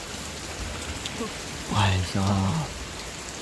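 Heavy rain pouring steadily at night during a thunderstorm with lightning, a constant dense hiss throughout, with someone briefly talking over it.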